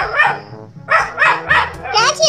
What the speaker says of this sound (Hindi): ये देखो हमारे भाई साहब जी कितनी जोर जोर से भौंक रहे हैं